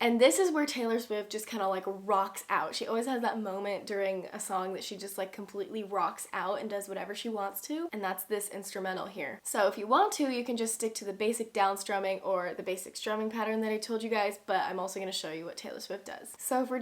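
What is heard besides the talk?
No distinct noise like a dog, phone or traffic.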